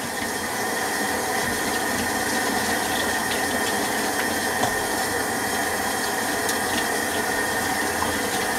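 Tap water runs steadily while dough is washed under it, a constant close rushing splash with no pauses and no talking.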